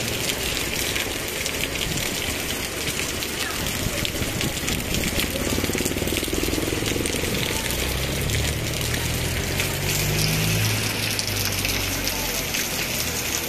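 Rain falls steadily in Davao City, a continuous broadband wash of drops on surfaces with a low rumble beneath, while a voice talks quietly over it for much of the time.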